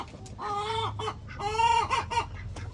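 Chickens cluck in a series of close, loud, harmonic squawks and calls, with no one talking over them.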